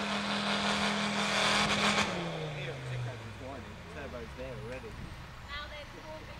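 A rally car engine at a special stage at Coney Green, its tone sweeping down steadily before fading, with loud crowd noise and spectators talking over it.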